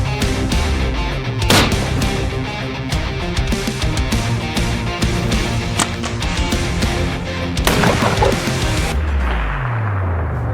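Rifle fire on a black bear hunt outdoors, two sharp loud cracks several seconds apart over steady dense background noise.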